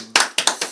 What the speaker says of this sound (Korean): 아유 우리 응원의 박수